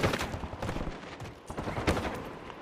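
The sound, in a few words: gunfire in a video game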